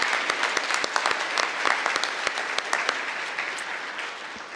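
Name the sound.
conference audience applause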